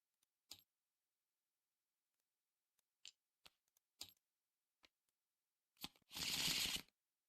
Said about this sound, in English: shuffle both set aside copies of Strange Geometry into the encounter deck